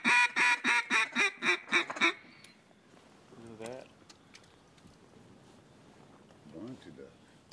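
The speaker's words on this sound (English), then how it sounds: "we got a duck working right here" A duck quacks loudly in a rapid run of about eight calls at a waterfowl hunting spot on early high water, followed by a softer quacking chatter and quiet murmured talk.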